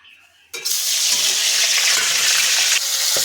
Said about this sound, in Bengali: আমাদের তেল গরম হয়েছে এবার মাছটা এক করে আমরা ভেজে নেবো